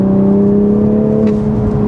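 A Toyota GR Supra MkV Final Edition sports car on a twisty canyon road holds a loud, steady engine drone with a deep hum, heard close up from inside the car.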